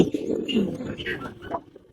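Giribaz pigeons in a Bangladeshi home loft give short, soft throaty coos close by, while a person talks over them.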